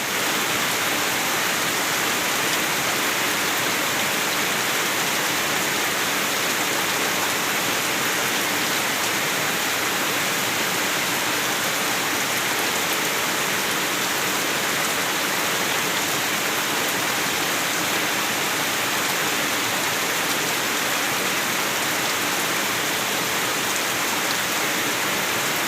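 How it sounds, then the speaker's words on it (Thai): Heavy rain falls steadily during a Thai-Lao wet-season downpour at home, a dense continuous hiss of drops on surfaces with no letup and no voices. "ฝนตกเด้อ"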